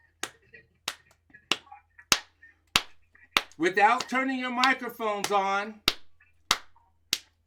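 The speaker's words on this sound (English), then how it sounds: "We're going to clap a rhythm." Sharp hand claps strike out a rhythm at a library children's program, landing as spaced single beats with a brief burst of group chanting or singing in the middle. A voice gives instructions beforehand.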